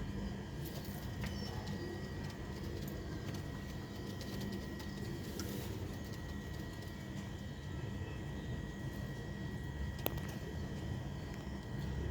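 Sialkot's old red-pearl pigeon breed coos softly in the background, faint and intermittent under a steady broadband hum resembling a distant aircraft, with no voices.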